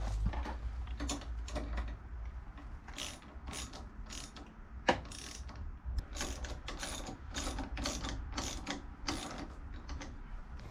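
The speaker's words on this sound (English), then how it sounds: "Now we'll get a wrench on those." A wrench ratchets a nut and lock washer tight on a Can-Am Maverick X3 shock tower light bar mount, giving rapid, crisp pawl clicks in repeated short strokes, close and moderately loud, with small knocks between them.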